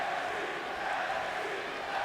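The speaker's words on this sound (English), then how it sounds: "this crowd is absolutely blowing the roof off the top of this building with that chant of NXT" An arena crowd in WWE 2K20 roars in a sustained chant of NXT, a loud dense wall of voices filling the building without pause.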